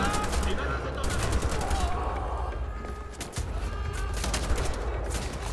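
Rapid bursts of gunfire in Wolfenstein: The Old Blood crackle almost nonstop, sharp repeated shots layered over a dense, busy background of game noise.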